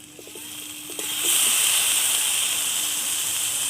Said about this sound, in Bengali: এবার আমি টমেটো দিয়ে দিচ্ছি।